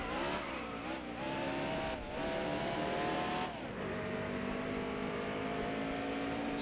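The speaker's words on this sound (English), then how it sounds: "There goes the leader, Joey Logano." Race cars in the NASCAR Heat Evolution video game drone past with loud, continuous engine tones that rise and fall in pitch as they pass, and no one speaks.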